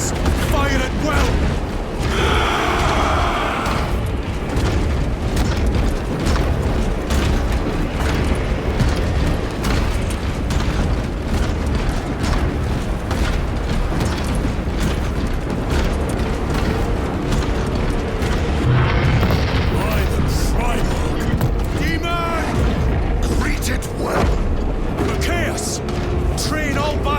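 Dense battle din from Warhammer 40k: Space Marine 2, a continuous loud wall of gunfire and booming blasts with mechanical clatter, mixed under shouted voices that run through much of the stretch.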